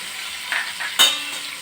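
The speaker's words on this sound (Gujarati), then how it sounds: "અને એને સરસ સાતળવાની છે." Sesame seeds stirred into hot ginger-chili paste in a pan, giving a soft steady sizzle with a couple of sharper scrape-and-stir accents from a spoon against the pan.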